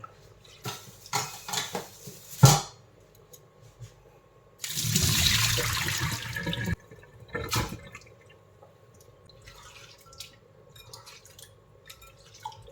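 Bitter gourd pieces being washed by hand in a bowl of water, with splashing and sloshing swelling into a sustained rush midway, scattered drips and clinks of the container before and after, no talking.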